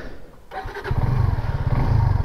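A Suzuki Gixxer SF 250cc motorcycle engine cranks and catches, then settles into a loud, throbbing idle right up close.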